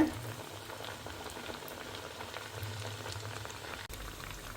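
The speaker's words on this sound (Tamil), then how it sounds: "நல்லா ப்ரௌன் கலராக வர மட்டும் நம்ம பொரிச்சு எடுக்கணுது" Nai pathiri deep frying in oil until brown and puffed, a soft, steady bubbling sizzle with fine crackles, continuous and fairly quiet throughout.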